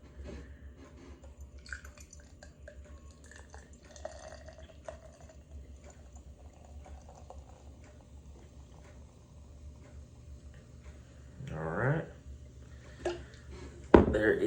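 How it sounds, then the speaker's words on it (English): Budweiser beer poured into a glass, quiet liquid trickle and fizz with a louder splash and glass clink near the end, beneath soft background noise and some speech. "Just pouring them into the glass"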